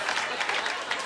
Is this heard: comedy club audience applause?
yes